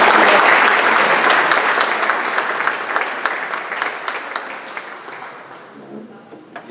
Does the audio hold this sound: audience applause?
yes